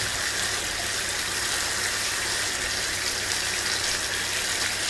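Tap water runs steadily into two bottles being rinsed in a home kitchen while meat fries, a continuous broadband gush with no talk over it.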